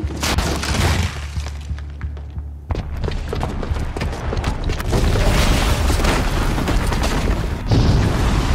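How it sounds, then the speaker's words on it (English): Booby-trapped bomb explosion in the video game Horizon Zero Dawn, a sudden loud boom with shattering debris, followed by a long, heavy rumbling roar that swells again near the end. "the booby trap on the bomb downstairs is gonna get set off"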